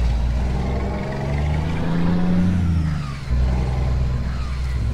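A truck engine revs and pulls forward on a highway with a continuous rumbling roar, swelling and dipping slightly, loud and close.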